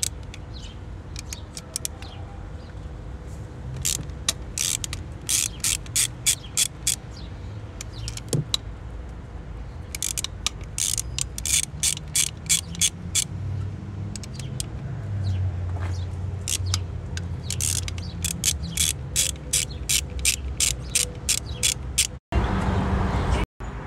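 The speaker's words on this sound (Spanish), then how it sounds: "Ahora nos disponemos a zafar los tornillos" Ratchet loosening the fuel injector bolts on a Chevy Cruze, heard as repeated quick runs of sharp metallic clicks in bursts over about twenty seconds, fairly close, with low background rumble.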